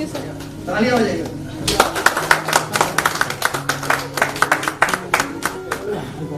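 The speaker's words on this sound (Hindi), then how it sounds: "तालियां बजाइए।" An audience at a direct-selling business training session breaks into lively clapping, a dense burst of hand claps that starts after a moment and carries on, with voices talking over it.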